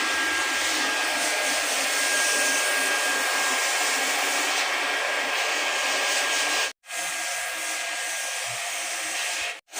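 Welding the inlet of a water filter produces a loud, steady blowing roar that runs almost continuously, cutting out abruptly twice near the end.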